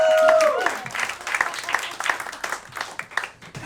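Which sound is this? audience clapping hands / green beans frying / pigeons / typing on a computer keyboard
audience clapping hands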